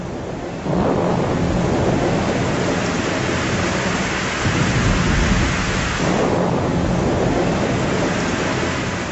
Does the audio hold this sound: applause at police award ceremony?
no